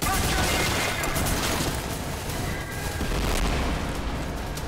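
Dense, continuous battle noise from the video game Trepang 2, with rumbling grenade blasts blending into rapid gunfire, loud and close throughout with a voice partly underneath.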